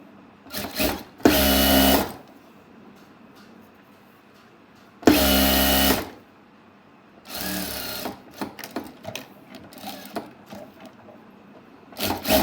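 Sewing machine stitching along a fabric edge for a prayer garment, loud steady mechanical whirring in three separate bursts of about a second each, with quiet handling and rustling of cloth between them.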